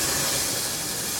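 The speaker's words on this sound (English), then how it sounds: "open your steam valve like that" Steam valve opening on a Stanley Steamer steam car, giving a loud, steady, broad hiss that carries unbroken through the whole short stretch with no talk.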